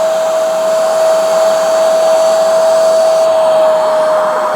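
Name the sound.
Hoover Spotless carpet spot cleaner running, hose cleaning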